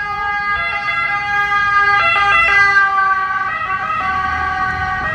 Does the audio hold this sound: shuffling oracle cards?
no